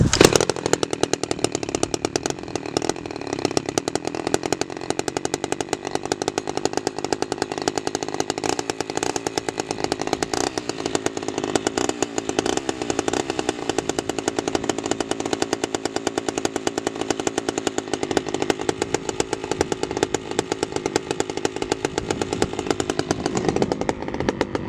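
A chainsaw cuts firewood with a loud, continuous buzzing roar that stays close and steady throughout, with slight shifts in pitch as the chain bites into the wood.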